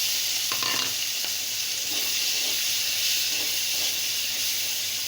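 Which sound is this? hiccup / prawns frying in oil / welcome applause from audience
prawns frying in oil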